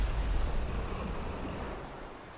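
Ocean waves on a beach wash in with a steady low rumble, a soft continuous surf roar that fades slightly, with wind and no voices.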